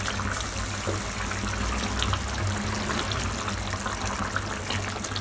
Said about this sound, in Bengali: ফুটে উঠেছে এটা, এবার আমি এর মধ্যে দিয়ে দেবো ভেজে রাখা মাছগুলো।